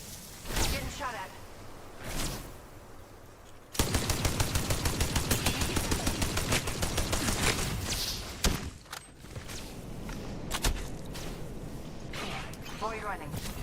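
Distant gunfire from another squad in a shooter video game: a rapid automatic burst of evenly spaced shots in the middle, with scattered single shots and thuds around it, heard under game voice callouts.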